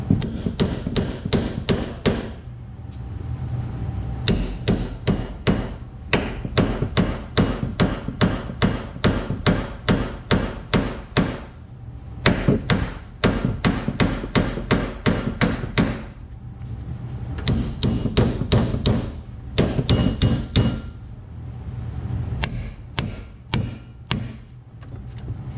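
A hammer striking a chisel on a broken boat trailer axle gives rapid, loud metallic blows in long continuous runs with brief pauses, close up, with no voices.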